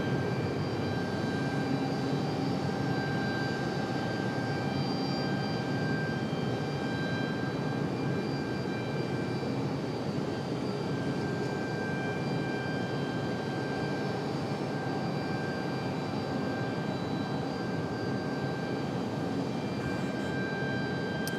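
A Delta jet airliner takes off from Raleigh Durham airport, a steady, sustained roar of jet engines with a high whine running throughout, loud and continuous without pause.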